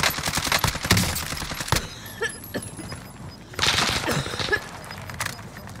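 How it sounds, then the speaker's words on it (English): Bursts of automatic gunfire in Call of Duty Warzone, rapid cracking volleys in clusters with gaps between, fairly close and loud, with faint game sounds around them. "He's shooting me."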